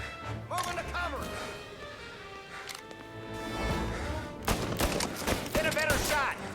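Gunfire in the video game Mafia Definitive Edition comes as bursts of shots and rattling volleys during a firefight. Characters shout over the shooting in the mix.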